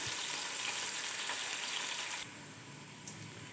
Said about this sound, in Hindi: प्याज को ब्राउन करते हैं।